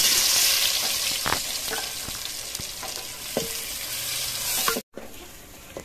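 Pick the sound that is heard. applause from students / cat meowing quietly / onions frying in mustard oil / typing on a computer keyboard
onions frying in mustard oil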